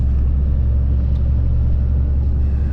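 A vehicle engine rumbles loud and close, a steady low drone that holds without a break from start to finish.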